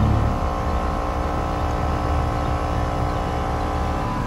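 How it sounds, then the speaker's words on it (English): A central air conditioning compressor hums steadily after being plugged back in, a loud continuous low-pitched drone with a faint mechanical whir that stays even throughout, with no voices. "That compressor was not running before."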